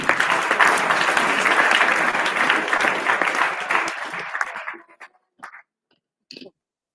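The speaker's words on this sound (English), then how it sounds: "Let us give the ambassador a hand of applause again." An audience applauds the ambassador at a closing ceremony in Liberia. The loud, sustained clapping fades out after about five seconds, followed by a few faint scattered sounds.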